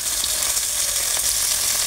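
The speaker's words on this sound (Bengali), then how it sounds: "মাছটাকে বেশ ভালো করে কড়া করে ভেজে নিয়েছি" Fish fries until crisp in hot oil, giving a bright, continuous sizzle with faint crackles, close and steady from start to end.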